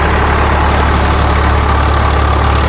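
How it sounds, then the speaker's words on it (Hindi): A new tractor running a rotavator at about 1400 RPM, its engine giving a loud, steady, even drone with a low rumble throughout and no voices. "और ट्रैक्टर की आप आवाज़ देखिए, ना ही कोई धुआं है, नया ही ट्रैक्टर है, बिल्कुल लोड फ्री चल रहा है"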